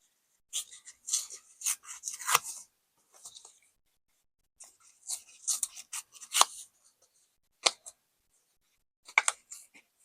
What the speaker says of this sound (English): I'm going to cut this down just a tad bit.